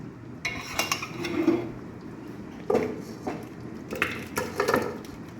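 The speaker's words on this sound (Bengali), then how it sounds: "আমি নেড়ে চেড়ে ভালোভাবে এটা নামিয়ে নেব।" A utensil stirring chilli chicken in a pan, with scattered scraping and clinking knocks in uneven groups, fairly close and moderately loud.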